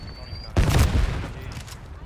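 A sudden burst of AK rifle gunfire in Black Ops 6, a short rapid volley with a booming onset that decays over about a second, heard up close.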